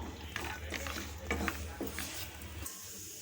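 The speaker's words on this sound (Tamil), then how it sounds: "வேர்க்கடலை கொஞ்சம் வறுபடட்டும்" Raw peanuts dry-roasting in a pan, with scraping stirs and light rattling of nuts against the metal over a low steady hum, close and moderately loud.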